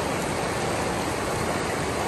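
Rock Creek in the Weminuche Wilderness of Colorado's San Juan mountains rushes over rust-colored rocks, giving a steady, loud, close wash of flowing water with no other sounds.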